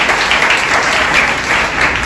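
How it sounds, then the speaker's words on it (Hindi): A church congregation at a Sunday service claps loudly and continuously, a thick, even roar of applause close and full for its whole short length with no voices. "प्रभु के लिए जोर से ताली बजाइए।"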